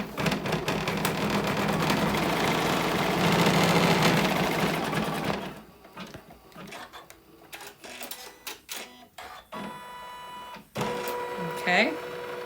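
A sewing machine stitches placement marks for bag straps, a steady loud mechanical whir running about five seconds before stopping, followed by scattered clicks, handling noises and a person speaking.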